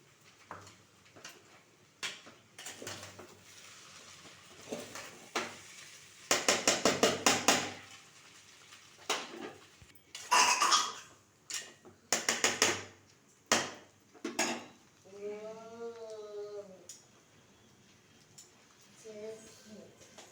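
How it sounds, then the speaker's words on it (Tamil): A utensil stirs and mixes noodles in a pan, with irregular bursts of scraping and clattering against the pan, some quiet gaps between, and a voice talking at times. "நம்ம நல்லா சேரத்துக்கு நல்லா இந்த மாதிரி மிக்ஸ் பண்ணி விட்டுக்கலாம்."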